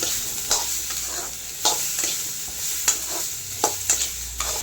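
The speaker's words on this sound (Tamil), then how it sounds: "கத்திரிக்காய் முருங்கைக்காய் பொரியல் ரெடி பண்ணிக்கலாம்" Brinjal and drumstick poriyal being stirred in a pan over a steady sizzle, with repeated scraping strokes of the spatula at an uneven rhythm, close and moderately loud, no talking.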